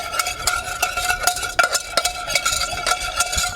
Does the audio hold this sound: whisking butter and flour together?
yes